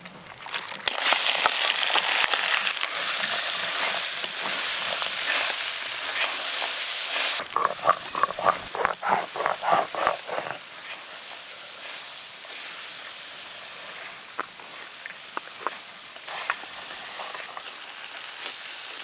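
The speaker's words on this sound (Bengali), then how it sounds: "দাঁড়াগুলো এবার একসঙ্গে সব ভালো করে ভেজে নেব।" Sundarbans crab claws fry together in a hot pan, giving a loud, steady sizzle that swells into a burst of rhythmic stirring and crackling midway, then settles into a quieter hiss with scattered pops.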